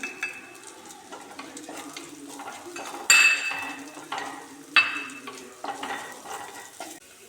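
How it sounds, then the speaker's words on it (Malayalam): Ginger and green chilies fry in a pan for a Kerala puli inji, with soft sizzling, a spoon stirring and scraping, and a few sharp clinks against the pan. "ഇഞ്ചിയും പച്ചമുളകെല്ലാം നന്നായി മൂത്ത് വന്നിട്ടുണ്ട്"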